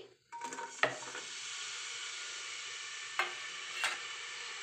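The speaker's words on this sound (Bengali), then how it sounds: "তো এইভাবে আমি পেঁয়াজগুলো ভেজে নিচ্ছি।" Chopped onions sizzling in a generous amount of mustard oil in a pan, a steady hiss broken by a few louder stirring scrapes, close and with no voices.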